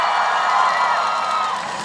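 Festival crowd at an outdoor cheese festival clapping and cheering, a dense, steady wash of applause and shouts that holds loud and even throughout.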